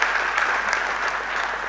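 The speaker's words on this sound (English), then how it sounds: "Please give her a round of applause." Sustained audience applause fills a lecture hall at a university maritime studies institute's maiden annual lecture, a dense, steady patter of many clapping hands throughout.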